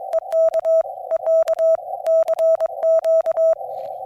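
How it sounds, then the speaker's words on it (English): Morse code CW sidetone from a QMX radio keyed with a paddle: a loud, clean, steady tone broken into quick dits and dahs in an even sending rhythm, alone without talk. "you can now send CW this way"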